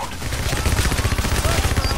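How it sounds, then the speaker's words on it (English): Rapid, loud bursts of gunfire in the video game Payday: The Heist, sniper shots among them, crackle densely over about two seconds, with a voice partly audible underneath. "I got shot by a sniper"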